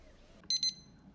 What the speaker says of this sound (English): it's beeping me to tell me it's climbing